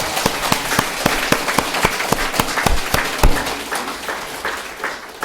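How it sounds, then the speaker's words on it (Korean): A church congregation applauds at an Easter service, producing a steady run of loud, sharp claps at a fairly regular rhythm that thins out and fades toward the end. "부활하신 주님을 위하여 영광의 박수를 올려드립니다."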